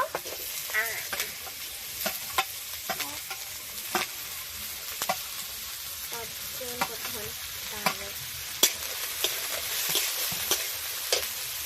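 Half-fried onions with carrots sizzle steadily in a pan for the whole stretch, broken by repeated sharp scrapes and clacks of a spatula stirring, close and moderately loud, with no talking.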